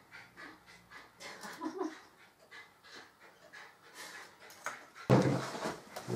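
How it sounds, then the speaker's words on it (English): A pet dog pants steadily in the background, a soft rapid breathing rhythm that runs through the whole stretch, with a louder thump or knock near the end. "That noise you can hear in the background is my dog Jess."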